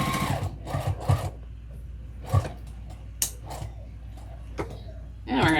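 A sewing machine runs a back stitch on a tote bag with a vinyl zipper overlay, in several short mechanical bursts separated by pauses, close and moderately loud.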